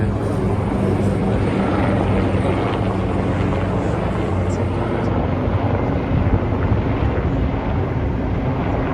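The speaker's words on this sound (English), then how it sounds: "So they have a helicopter." A helicopter passes over a Remembrance Day ceremony in Toronto, a loud, continuous broadband rumble and rotor roar that fills the whole scene, mixed with wind buffeting on the microphone.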